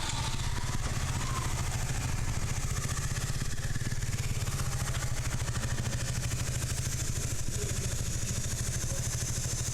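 A Honda NX 500 motorcycle idling on a bike ride through Coorg, Karnataka, its engine giving a loud, close, steady rapid putter that stays constant without revving, and nobody talks over it.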